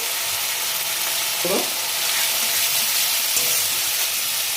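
Ginger-garlic paste with salt and turmeric frying in a pan, a loud, dense, steady sizzle that hisses on throughout, with a couple of faint stirring scrapes and no voices.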